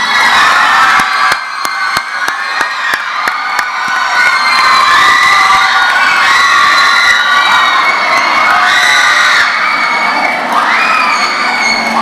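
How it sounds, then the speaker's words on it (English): A crowd at a 12th grade graduation day cheers, whoops and shouts for the graduates in a loud, sustained roar, with some clapping mixed in throughout. "Please give them one big round of applause."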